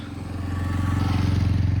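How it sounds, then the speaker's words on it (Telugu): Motorbikes on a road near waterfalls in a Vizag colony produce a loud, close, steady engine drone with a rapid pulsing throb that builds slightly over the short stretch. "చూడండి ఈ రోడ్డు మీద బైకులు కూడా వెళ్తున్నాయి"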